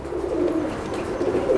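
A Teddy pigeon coos in a low, soft, continuous murmur close by, with no talking.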